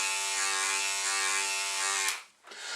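An electric hair trimmer motor running while shaving, a loud steady close buzz that cuts off abruptly near the end, followed by a faint rustle.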